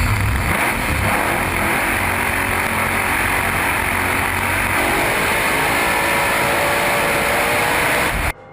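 A race car engine roars loud and steady as it accelerates into high gear, a dense, continuous mechanical drone that holds for about eight seconds before cutting off abruptly.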